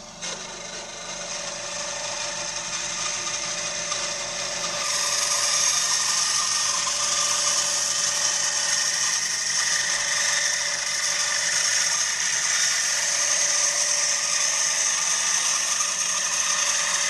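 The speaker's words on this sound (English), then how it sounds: "Bandsaw saves me literally hours of work, hours of it." Bandsaw cutting through wood in a boat-maintenance workshop, a steady abrasive rasping whine that holds continuously and grows louder partway through, with no talk.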